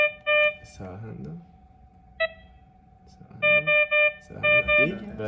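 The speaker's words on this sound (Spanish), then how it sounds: "está la alarma de bradicardia extrema y el LED" An ECG simulator's extreme bradycardia alarm sounds as bright, repeated electronic beeps in short clustered bursts, with a person speaking between and under them.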